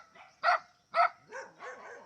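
A dog barks in a rural countryside setting, with two loud, close barks followed by a few softer, lower barks and whines in quick succession.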